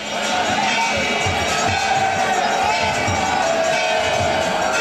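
Devotees crowd the Kedarnath temple complex, chanting praises of Baba Kedar as a dense, continuous roar of many voices that fills the air without a break.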